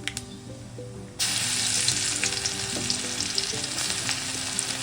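Garlic, dried red chilies and black cumin seeds hit hot oil, and after a short quiet moment a loud, steady sizzle bursts up and keeps crackling close by with no one talking.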